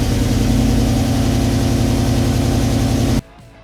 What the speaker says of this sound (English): Everybody loves a cold start, so here you go.